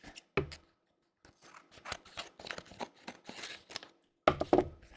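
Scissors snip close up, with crisp irregular cuts and faint paper-like crinkling between them.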